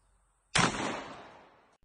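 A Kel-Tec firearm fired at a propane tank on a shooting range: a single loud, sharp blast with a long ringing decay, close and alone, rather than a rapid burst.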